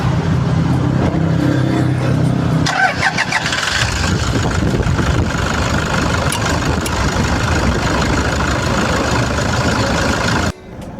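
A 2013 Toyota Fortuner TRD Sportivo diesel with a VNT turbo cranks and fires up close by, then settles into a loud, steady diesel idle that runs alone for several seconds before cutting off.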